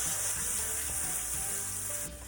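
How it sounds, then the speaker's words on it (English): Cajun-style stuffed burgers sizzle steadily in a pan over medium heat, a continuous bright hiss with faint crackles and no talking. "Sizzling away there"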